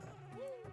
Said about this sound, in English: You see, the beehive with the bees around it.